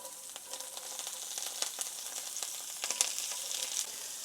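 Chopped carrots, celery and onion hit a hot pan and sizzle with a soft, continuous crackle and scattered pops, fairly quiet, with no talking.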